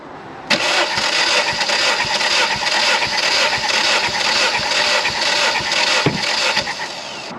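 Rover K Series engine in an MG TF 135, warm, with spark plugs and coil packs removed, cranking steadily on the starter during a compression test, a loud rhythmic churning that runs for about seven seconds.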